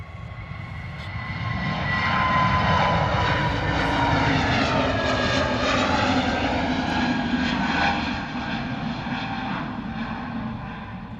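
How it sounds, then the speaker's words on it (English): An EasyJet Airbus A321neo takes off at full power, its engine roar building and holding loud and steady, with a rising and falling whine over the broad rumble. "Next out the door, EasyJet A321Neo off to Amsterdam. Here we go. Full noise."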